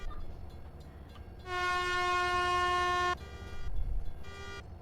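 A train horn in a Ukrainian railway setting in GTA blares as one long steady tone of about a second and a half, then a shorter toot follows, over low rumbling engine noise.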